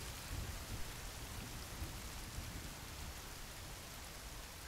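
Steady rain falls in the survival video game The Forest, a dense, even hiss of drops with low rumbling beneath, continuous and unbroken with no voices.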